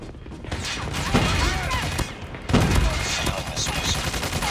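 Rapid automatic gunfire fills a ranked shooter video game match in dense, overlapping bursts, loud and close, with a brief pause between volleys.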